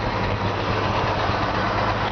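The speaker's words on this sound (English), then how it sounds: "Let you hear the engine." A 1953 Chevrolet 3100 pickup truck engine idles steadily up close, a continuous low rumble with an even, unchanging texture and no voices.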